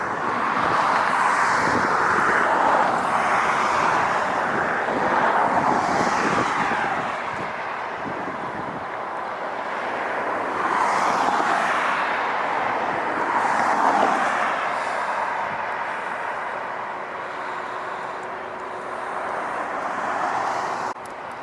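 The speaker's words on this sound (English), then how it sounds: "Southwest coming in smooth as usual." A Southwest airliner lands at LAX, its loud, continuous jet roar swelling and easing as it passes, with broadband rumble and shifting whine and no talking.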